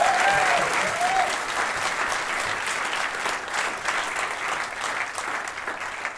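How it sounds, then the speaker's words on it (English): Steady, dense applause from a live podcast audience on stage, loud and sustained throughout, with a brief voice or cheer near the start. "A round of applause for Sarah."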